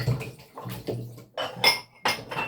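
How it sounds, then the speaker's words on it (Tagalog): Something washed under running water in a kitchen before cooking, with intermittent splashes and clinks of dishes and utensils coming in short bursts, close by and clear. "bago ako magluto dito, kailangan ko itong hugasan"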